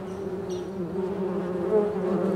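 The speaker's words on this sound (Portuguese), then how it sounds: "Mas vão ter que se virar com as vespas." Wasps buzz steadily and close around an old vehicle being stripped for a Jeep Cherokee or Chevrolet Blazer race build, a continuous droning hum with slight swells in pitch.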